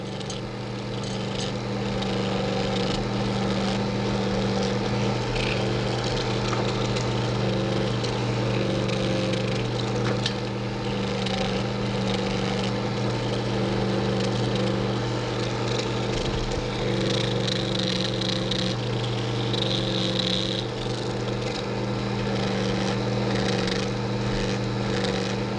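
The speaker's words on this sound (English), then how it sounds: "use your manicure machine on the underside of the nail tip to make sure you've left no frayed edges or rough places" An electric manicure machine buffs a linen or silk fingernail wrap with a continuous, even motor drone that holds steady throughout, with no talk.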